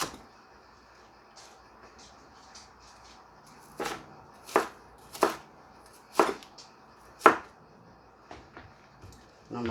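A knife slicing through food on a cutting board in a quiet kitchen, about six sharp, separate cuts spaced roughly a second apart, close by and fairly soft.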